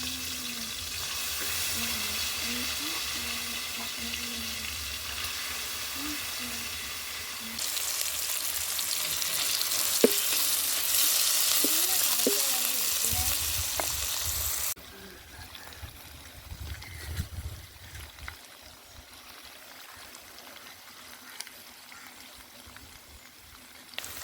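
Cooked liver with curry leaves fries in a pan, a steady sizzle shifting in level across several cuts, with occasional stirring scrapes and a brief trickle of liquid, fairly close.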